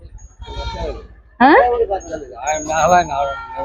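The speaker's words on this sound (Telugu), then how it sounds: "మీయా బాబాయ్ ఎన్ని మేకలు ఉన్నాయి ఇవి" Goats bleat several times in a row at a goat market, close by and fairly loud, with wavering calls overlapping people talking nearby.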